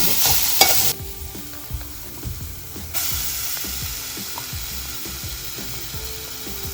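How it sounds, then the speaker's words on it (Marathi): Ground pigeon pea pods frying in a pan with garlic, chili and ginger: a steady sizzle under repeated rhythmic scraping strokes of a spoon stirring, close up, with no talking. "आपण यामध्ये तुरीच्या शेंगा ज्या मिक्सरमध्ये बारीक करून घेतल्या होत्या त्या घालणार"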